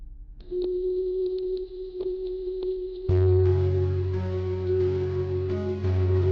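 An unanswered phone call ringing out, a steady repeating ring tone in the earpiece that carries on as dramatic background music swells in beneath it partway through; no one speaks.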